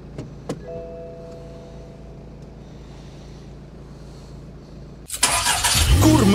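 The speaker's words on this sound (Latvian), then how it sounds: "cik ātri viņu tas jumts atverās" A convertible car roof's electric mechanism opens, with a faint thin motor whine early on under a quiet background, followed near the end by a sudden loud rush of broadband noise.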